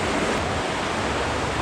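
A river rushes past a campsite, a dense, steady wash of flowing water that is loud and close and has no breaks or voices.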